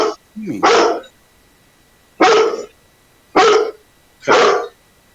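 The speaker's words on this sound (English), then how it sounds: "you're probably barking at nothing. He's barking." A dog named Fenrir barks four times indoors, loud and close, with sharp separate barks spaced about a second apart and a short whine near the start.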